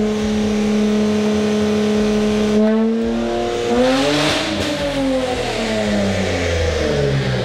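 A new Nissan Z with a flame tune revs hard, then its engine is held at a steady set RPM by launch control, the pitch rising and settling into a loud, close, sustained drone.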